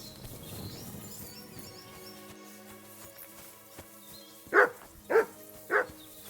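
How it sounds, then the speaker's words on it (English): A dog in Kingdom Come: Deliverance II barks three times in quick succession near the end, sharp and close, after a stretch of quiet background with faint ambient music. "You silly dog."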